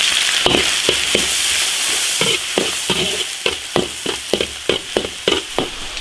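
Ginger and garlic stir-fried in a wok, a steady sizzle of frying under repeated sharp scrapes and clacks of a spatula against iron, quickening into a regular tossing rhythm.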